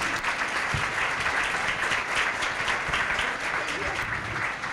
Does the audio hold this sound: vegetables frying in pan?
no